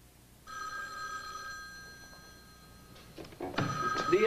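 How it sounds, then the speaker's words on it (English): Telephone bell ringing in an indoor room, a sustained electric ring that starts, holds for about a second and then fades, followed by rustling and a second louder ring near the end. "The phone's ringing in here, you know."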